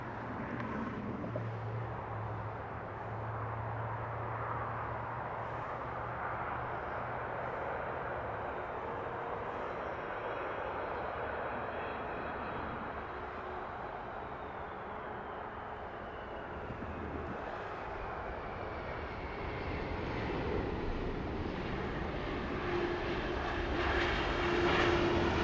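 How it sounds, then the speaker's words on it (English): A Boeing 767 airliner arriving at Los Angeles from JFK on flight 713 gives a steady, broad engine roar with a slowly falling whine. It stays fairly distant and builds a little louder toward the end. "We got a 767 coming in."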